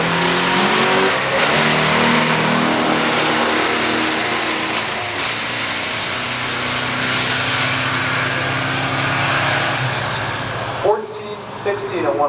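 A 1968 Dodge Charger R/T and a 1970 Buick GS455 four-speed drag racing, heard as a loud, sustained roar of engines that holds steady for about eleven seconds, then drops off abruptly near the end, with some voice mixed in.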